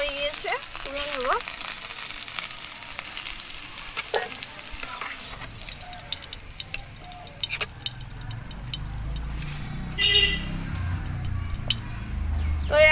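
Food frying in hot oil for a vegetarian puja thali, with a continuous sizzle broken by clinks and stirring scrapes of a spatula; the crackle grows denser and louder toward the end.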